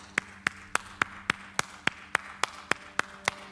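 A preacher claps his hands in a steady, evenly spaced rhythm, about thirteen sharp, fairly close claps in a row with no talking in between, against a quiet room.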